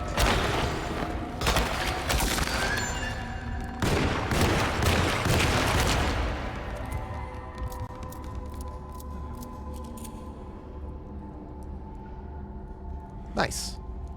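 Gunfire in the game Alone in the Dark, a few loud sharp blasts close together early on, then a quieter stretch and one more distinct shot near the end, with someone talking over parts of it.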